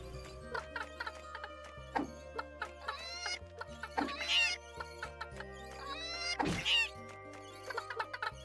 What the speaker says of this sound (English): Chickens, I guess.